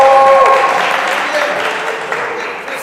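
A church congregation cheers and applauds in a loud, continuous wash of crowd noise, with a brief high whistle-like tone near the start and the roar easing slightly toward the end.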